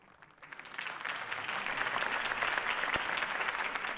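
In the Batman Telltale video game, a political rally crowd breaks into applause after Harvey Dent's campaign speech, swelling from quiet into a steady, dense roar of clapping at some distance.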